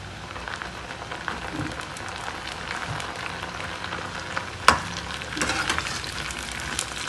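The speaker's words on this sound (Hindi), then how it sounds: "अब इसमें मैं गोभी डाल रही हूँ" Potatoes and cauliflower fry in a pan of oil, a steady rain-like sizzle up close, broken by one sharp clink of a utensil midway and a brief swell of louder spattering after it; no talking.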